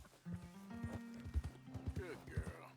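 Horse hooves clip-clopping in a video game, a steady run of close, loud hoofbeats with a horse's whinny partway through and a person talking over them.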